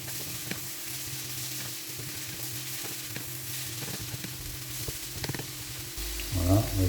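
Knack sausages sizzle steadily as they fry in a pan, a continuous close crackle with small stirring knocks, swelling louder near the end.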